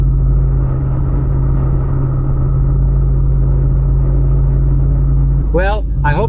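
A 2025 Jeep Wrangler Rubicon 392 Final Edition cruising on a highway, a loud steady engine and road rumble heard from inside the cabin, with a voice speaking briefly near the end.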